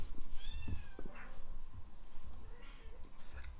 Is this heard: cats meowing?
yes